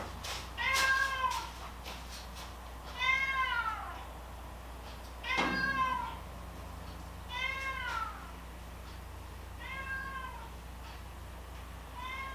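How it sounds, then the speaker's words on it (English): A cat meowing repeatedly outside around a workshop yard, five or six drawn-out meows spaced a couple of seconds apart, moderately close over a faint steady background hum. "I go outside to see where this cat is."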